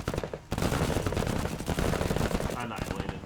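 Rapid bursts of automatic gunfire and explosions from the strategy video game MENACE rattle in a dense, loud volley that pauses briefly before resuming.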